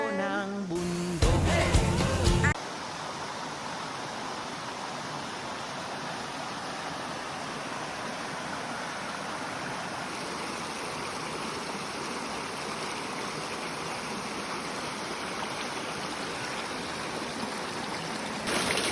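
Mountain spring water spilling over a large rock, heard as a steady, close, continuous rushing trickle after a brief burst of handling noise at the start.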